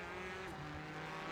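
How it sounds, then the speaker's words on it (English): A green and black BMW GTE race car spins during a sportscar series round at Autodromo Internazionale Enzo e Dino Ferrari, its engine droning steadily and loudly close by with a brief tire-scrub rise midway. "He's the green and black BMW that you see. He's going to spin the car."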